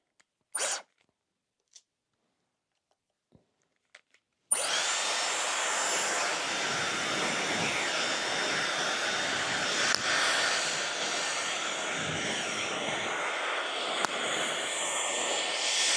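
A Dyson Airwrap blow-drying hair: a few faint clicks and a rustle in near silence, then the dryer switches on with a loud, steady, close whooshing roar that runs to the end with slight shifts.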